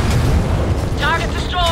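A video game weapon fires and a booming explosion follows, loud and close, with a voice speaking over the blast.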